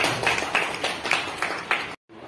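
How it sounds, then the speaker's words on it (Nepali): Church congregation applauding after a sermon in Nepali: steady, dense clapping with rhythmic swells, fairly close, ending abruptly, followed by a brief quieter moment. "thank you Tali बजाइदिनु"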